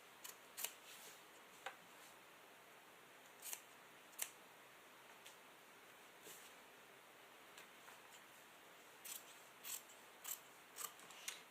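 Scissors snip through fabric along a zipper and lining while sewing a clutch bag, giving sparse, faint, crisp clicks at irregular intervals over a quiet hiss.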